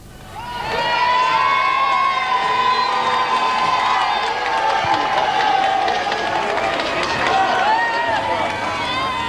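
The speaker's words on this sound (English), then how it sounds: "The flag-waving crowds cheered again as the Queen left the building" Flag-waving crowds cheer as Queen Elizabeth leaves a museum building in Paisley in 1998, a loud, sustained roar of many voices with high children's shouts, steady throughout after a quick rise.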